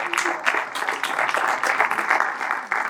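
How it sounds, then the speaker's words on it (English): A crowd applauds steadily, dense clapping filling the room at a fairly loud level without pause. "A huge round of applause."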